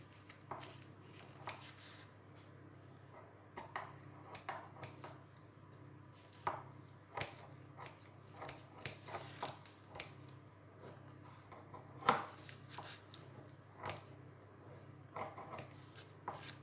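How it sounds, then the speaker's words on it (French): Scissors snip through store-bought puff pastry close by, producing soft, irregular clicks and light crunches repeated over a quiet background, with no speech. "je vais recouper ça au ciseau"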